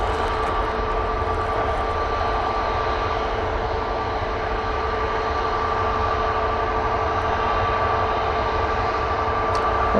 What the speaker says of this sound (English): off to Prague with that 737 MAX 8